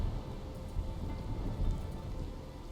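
Steady rain hisses across the scene in The Darkside Detective, a dense, even wash with low rumbles of thunder swelling faintly beneath it, continuous for a few seconds with no talking.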